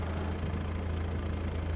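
A Kubota M6 tractor idles in Farming Simulator 22, a low steady engine drone with a faint rhythmic knock, even and unbroken throughout.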